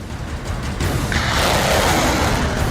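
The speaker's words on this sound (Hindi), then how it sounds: "खार्किव के इन खेतों से मिसाइलें रूस के ठिकानों पर लॉन्च कर दी गई" An Uragan multiple rocket launcher fires missiles from farm fields near Kharkiv during the Russia-Ukraine war, giving a deep boom that swells into a sustained, broadband roar and rush that fills the rest of the moment, with no voices.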